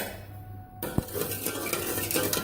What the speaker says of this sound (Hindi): अब मैं इसको हिलाती जाऊंगी